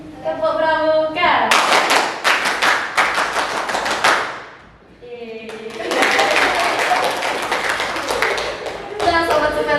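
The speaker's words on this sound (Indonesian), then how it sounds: "Mungkin bisa dikasih tepuk pramuka dulu buat sekali bang. Oke. Tepuk pramuka." Indonesian scout troop performing the rhythmic pramuka clap, a patterned burst of sharp group claps and taps in two loud phrases separated by a brief lull, with voices around it.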